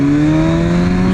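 A motorcycle engine revs hard and steady as the throttle opens too far and the front wheel lifts during an early morning ride, a loud, close, sustained drone with no talk.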